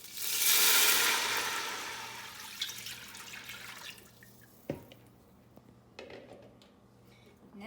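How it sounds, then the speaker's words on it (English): About six cups of water poured into a cooking pot with sweating garlic, a loud gush at first that tapers off, followed by a few faint drips and light clinks. "the next step is to put in about 6 cups of water into the pot."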